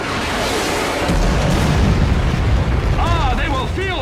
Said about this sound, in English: The siege machines are firing.